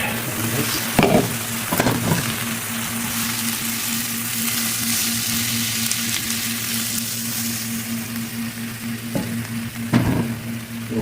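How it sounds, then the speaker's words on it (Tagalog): Onions frying in a pan, a steady moderate sizzle under a low electrical hum, with a few clattering knocks of utensils or a lid near the start and end. "Let's cover until the onions get translucent."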